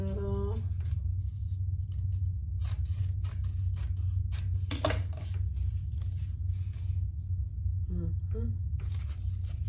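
Scissors trim fabric backing for a tall wallet sewing project, making a series of crisp snipping cuts at an irregular pace, close to the listener over a low steady hum, with brief speech near the start and end.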